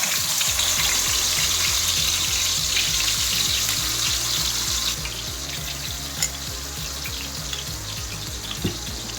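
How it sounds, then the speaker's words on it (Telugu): Ground onion paste frying in hot oil in a pan, a loud continuous sizzle with regular stirring scrapes, easing slightly partway through, and no voices. "ఇప్పుడు ఈ ఆయిల్లో మనము మిక్సీ పట్టుకున్న ఉల్లిపాయ పేస్ట్ వేసుకుందాం"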